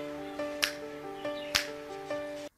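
A teacher's hand claps and finger snaps in a classroom place-value counting game: a few sharp, isolated cracks spaced unevenly, two stronger than the rest, over a faint steady hum.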